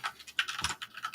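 Typing on a computer keyboard: a quick run of soft, close key clicks in an uneven rhythm lasting about a second, fairly quiet.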